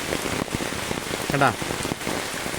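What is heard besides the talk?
heavy rain falling by a river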